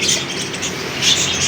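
Caged birds at a bird market in Bahawalpur call and squawk steadily in a dense, continuous chorus of chirps, nearby and fairly loud, with no talking.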